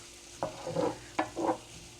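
Tomatoes sizzle and get stirred in a hot pan, two distinct stirring scrapes with bursts of frying between them, close and fairly quiet with no talking.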